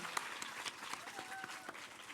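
A crowd claps in a dense, steady burst of applause, faint and somewhat distant, and it keeps going without letup.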